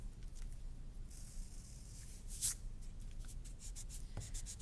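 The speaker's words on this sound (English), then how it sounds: "now because certain parts overlap, I'm going to erase." An eraser rubs out pencil lines on drawing paper in a steady, close scratchy friction that continues throughout, with one sharper scrape midway.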